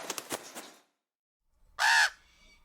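A raven gives a single harsh caw, loud and close, after a short burst of rustling and a silent gap.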